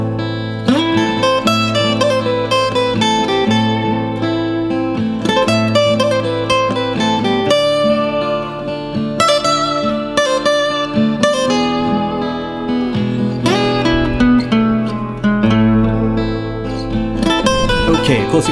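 A lead guitar solo in a minor key, played with Spanish-style licks over a chord progression: fast runs and bent notes ring over a steady low backing, loud and continuous without talk.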